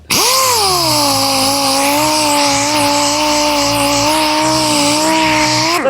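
A Chinese dual-action air sander with only one foot left on, so it rocks as it works, whines loudly and steadily for several seconds. Its tone dips slightly at spin-up and stays level until it stops.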